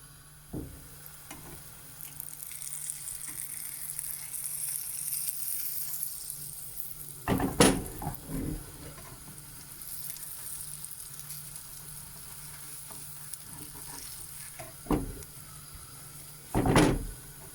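A pancake cooks in a frying pan with a soft, steady sizzle, and a few clattering knocks from handling the pan and utensils stand out now and then.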